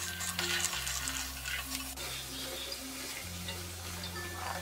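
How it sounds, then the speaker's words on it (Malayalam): Chickpea curry masala is stirred in a pan, a close, steady frying hiss under soft scraping and clicking from the spoon, while a low humming tone runs underneath throughout. "നന്നായിട്ട് ഇളക്കി യോജിപ്പിക്കാം."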